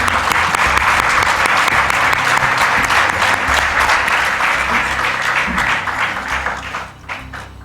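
Audience at a youth national meet gives the youth team loud, sustained applause. Dense clapping continues for several seconds and tapers off near the end.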